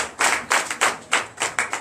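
A few people in a Sunday church service in Benin clap in separate bursts, roughly six rhythmic spurts of close, sharp handclaps rather than a full ovation.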